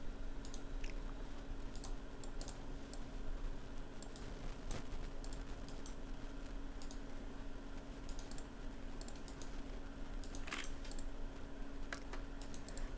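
Computer keyboard keys pressed while copying a text box in Google Sheets: quiet, scattered clicks and taps at an irregular pace over a faint steady hum, with no voices.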